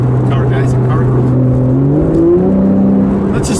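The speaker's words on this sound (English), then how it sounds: "let's just listen to that engine" A Porsche 911 Carrera engine hums from inside the car while driving, a close, steady drone that rises in pitch as it accelerates and shifts, with a person talking over it.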